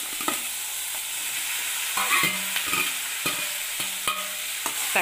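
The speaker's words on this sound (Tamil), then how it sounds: "தக்காளி பழத்தையும் கொஞ்சம் நல்லா வதக்கிக்கணும்." Tomatoes and onions are sautéed for a tomato chutney, with a gentle sizzle under repeated, close spatula scrapes and clacks against the pan in an uneven rhythm.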